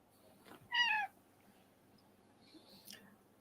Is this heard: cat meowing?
yes